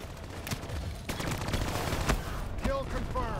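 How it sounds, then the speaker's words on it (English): Missile launches and gunfire in Black Ops 3 come as a string of sharp bursts and rumbling blasts spread through the clip. Speech and game sounds run underneath at moderate loudness. "I'm gonna hit him with missiles."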